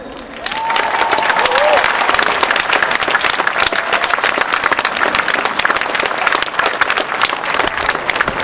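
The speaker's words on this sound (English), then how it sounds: "Let's see if we can have a big round of applause for Her Majesty the Queen and Great Britain." Seaside crowd at a Red Arrows air display in Lyme Regis applauding loudly, a dense, sustained wash of clapping that runs steadily throughout, with a few faint cheers and voices mixed in.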